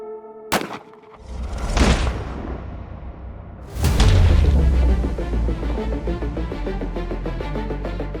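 A Walther PPK pistol firing a .380 Speer Gold Dot round: a sharp, loud crack followed by a second heavy boom with a long rumbling, reverberant tail, no talk.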